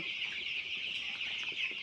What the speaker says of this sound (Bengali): এই হলো আমার কালার বাট মুরগি